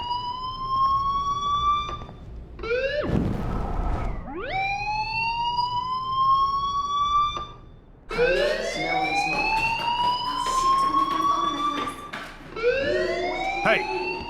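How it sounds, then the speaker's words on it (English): A fire alarm wails in repeated rising and falling tones, loud and close, with several overlapping cycles and a short burst of noise between them. "do you hear that fire alarm?"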